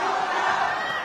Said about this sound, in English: Crowd getting behind him.